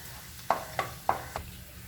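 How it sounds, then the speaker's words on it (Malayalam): Garlic and ginger going into hot oil for a brinjal curry, heard as four short sizzling bursts about a quarter-second apart as pieces hit the pan, fairly close and clear. "ഇപ്പം നമ്മുടെ എണ്ണ നന്നായിട്ട് ചൂടായിട്ടുണ്ട്. ഇതിലേക്ക് നമുക്ക് വെളുത്തുള്ളി ഇഞ്ചി ഇട്ട് കൊടുക്കാം."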